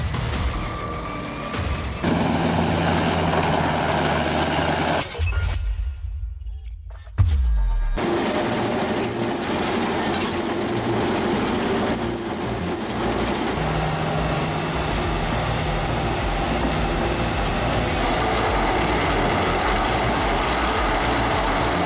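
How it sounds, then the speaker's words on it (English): An 800-horsepower CompTech industrial shredder tears through poplar stumps with a loud, continuous grinding roar that drops out briefly early on, then resumes as a steady heavy rumble. "The CompTech 800 horsepower shredder turns bulky poplar stumps into reusable material"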